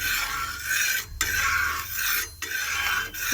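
Food being stirred with a spatula in a clay griddle pan with a little oil, heard as three close, rough scraping strokes separated by brief pauses.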